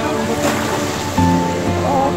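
Large ocean waves surging and breaking at Jungle Beach in Sri Lanka, a loud, continuous roar of churning surf with wind buffeting the microphone and a heavier crash swelling near the middle.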